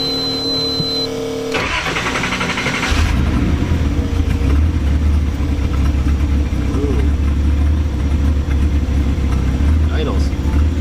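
A Datsun 280Z engine cranks briefly, catches and settles into a steady, loud, rumbling idle that continues to the end, with faint voices in the background.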